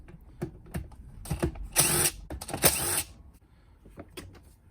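Carburetor screws come out of a Weed Eater edger with an Allen tool. Irregular clicks and scrapes of metal are close by, and two louder grinding bursts come in the middle.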